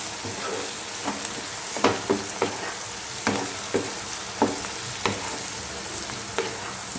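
Spice mix with a pinch of fenugreek powder being stirred in a pan for a dahi tomato curry, a steady soft sizzle broken by repeated light scraping knocks of the spoon against the pan, close and alone without talk.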